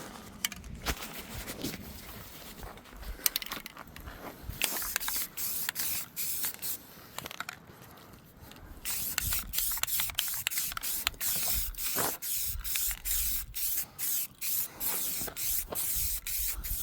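Spray paint hissing onto the back of a truck as a first coat of black goes on, in rapid repeated bursts of short, close, loud sprays with brief pauses between them and no talking.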